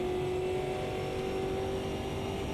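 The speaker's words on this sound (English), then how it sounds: "These V8 supercars also sound amazing, and AMS2 has great sounds overall." A V8 supercar engine in the Automobilista 2 racing game holds a steady, loud, buzzing drone at high revs throughout, with no talking.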